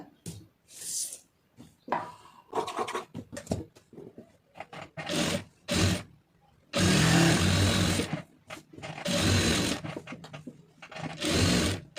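A sewing machine runs in bursts while stitching a lined blouse, its motor buzzing loud and close in short and longer runs separated by brief pauses.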